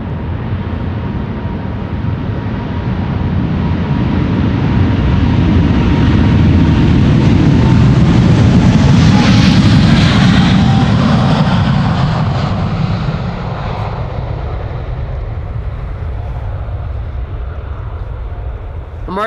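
A KLM Boeing 777-300 departs Amsterdam Schiphol, its jet engines building to a loud, broad roar that peaks as it passes close overhead, then slowly fades into a distant rumble.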